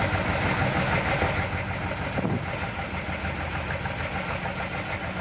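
Steady low engine drone of a Chinese warship, hull number 172, at sea, a constant mechanical rumble with broadband noise and no talk.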